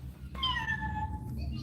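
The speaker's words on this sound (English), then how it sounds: "That's the cat." A cat lets out one drawn-out meow, fairly near, over a low background hum.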